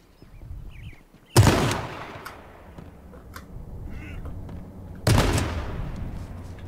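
Two sharp gunshots from the online battle royale game H1Z1 King of the Kill ring out a few seconds apart, each a loud broadband crack with a short decaying tail over faint background game ambience.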